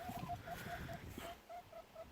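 Faint, repeated clucks from four hens in a quick uneven rhythm over soft outdoor background noise on a farm.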